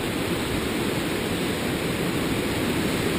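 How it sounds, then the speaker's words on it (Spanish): Rushing river water surging through a flood gate after rain, a steady, dense roar that continues unbroken and fairly loud throughout. "Es la fuerza de un río."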